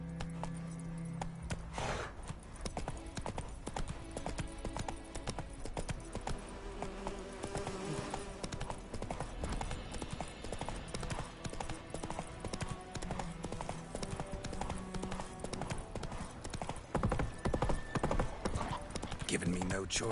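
Hooves of Roach, Geralt's horse in The Witcher video game, clip-clop steadily at a gallop through a dense game soundscape with music and buzzing insects, the rhythm continuing throughout alongside occasional voices.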